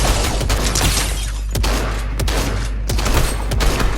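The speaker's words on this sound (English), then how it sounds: "I'm using the heavy shotgun here, and it paid off well" Heavy shotgun fire in the video game Fortnite, with loud booming blasts arriving in quick succession over dense, continuous battle noise. The blasts are close and dominate throughout.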